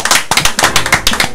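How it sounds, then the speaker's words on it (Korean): A small group at a Korean Marine Corps gathering claps loudly and close by, each clap sharp and distinct in a quick, slightly uneven rhythm across the whole moment, with no talking over it. "박수!"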